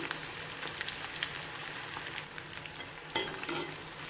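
Chicken 65 pieces fry in oil in a pan over medium heat, giving a constant close sizzle with occasional scraping stirs and a brief louder clatter near the end.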